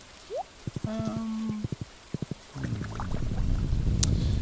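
Rain in Stardew Valley starts as a steady, soft patter partway through, after a few short game chimes and taps, then continues evenly to the end.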